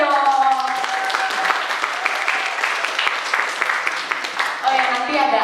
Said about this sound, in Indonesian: Tepuk tangannya dong